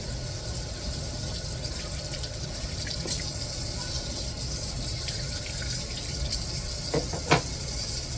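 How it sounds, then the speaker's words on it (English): Water runs steadily from a tap while a brass instrument part, from a trumpet-type horn, is scrubbed beneath it, giving a continuous close gushing wash with a few small knocks and scrapes near the end; no one speaks. "You just got to scrub it through just a little bit. And under some water, and it is good as new."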